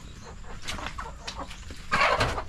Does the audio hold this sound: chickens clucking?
yes